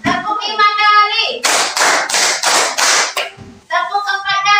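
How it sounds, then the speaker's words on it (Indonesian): A class of students claps hands together in rhythm, giving a quick run of about five sharp, loud claps in unison. A voice speaks just before and just after the claps. "Tepuk empat kali. Tepuk lima kali."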